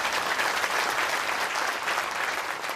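An audience at a religious discourse gathering claps steadily and fairly loudly, a dense continuous applause with no voices over it.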